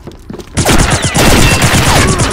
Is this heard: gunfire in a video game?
yes